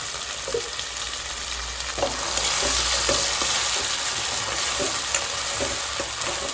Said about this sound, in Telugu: ఈ పేస్ట్ అనేది ఎర్రగడ్డ వాసన పోయే వరకు మనం బాగా ఫ్రై చేసుకోవాలి